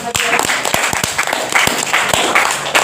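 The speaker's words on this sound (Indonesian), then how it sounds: "berikan aplaus untuk Aisyah" A classroom gives a round of applause for a student named Aisyah, with a small group of people clapping irregularly, the claps sharp and fairly close and blending into a loose patter with faint background voices.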